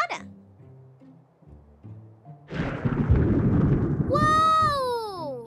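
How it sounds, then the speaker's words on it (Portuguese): Cartoon thunder after a lightning strike, a deep rumbling roll swelling loudly mid-clip and holding, with a bright zapping sweep layered on top near the end, following a short musical passage. "Dessa vez eu ouvi o raio primeiro e só depois eu escutei o trovão."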